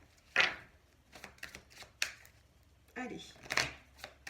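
Oracle cards being shuffled and drawn from a mirror-themed deck, close rustling riffles and sharp flicks in short irregular bursts, with someone speaking briefly between them.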